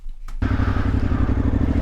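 A motorcycle fires up during an Iceland trip, going from a brief quiet into a loud, close, steady chugging idle with a regular low pulse that continues to the end.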